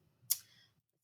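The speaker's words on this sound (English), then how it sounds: "You just keep clicking." One crisp, close mouse click sounds while someone draws on a computer, a sharp tap that fades quickly into near silence.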